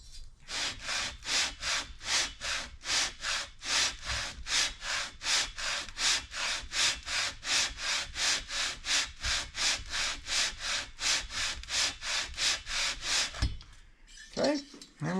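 Motorcycle cylinder head resurfaced by hand, rubbed back and forth on an abrasive surface in a steady rhythm of about two dozen rasping strokes, close and prominent, ending with a brief clatter.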